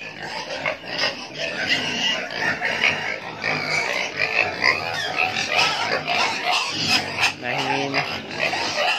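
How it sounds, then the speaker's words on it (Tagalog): Pigs on a Filipino hog farm oinking and grunting at feeding time, a dense continuous chorus of squeals and snorts close by, with voices faintly mixed in. "papakain tayo ng baboy"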